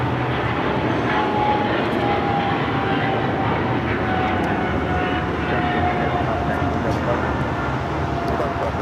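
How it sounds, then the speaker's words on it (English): A Japan Airlines Boeing 777-300ER taking off from LAX for Tokyo Haneda gives off a continuous heavy engine roar with a faint rising whine, steady and moderately distant across the whole stretch. "this is Japan Airlines Flight 15 taking off to Tokyo, Haneda on the 777 300ER."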